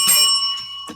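A single bright bell chime rings out close and clear, its metallic tone sustaining through the moment with faint breathy sounds around it.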